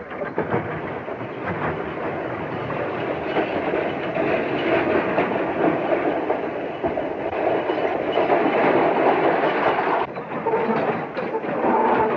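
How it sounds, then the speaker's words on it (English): An old western ammunition wagon rolls closer with a steady heavy rumble and rattle that stays loud and continuous throughout, with no talk over it. "Here comes the ammunition wagon."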